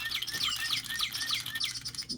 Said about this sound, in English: So those sounds that you're hearing, Amella, are the actual sounds that those birds make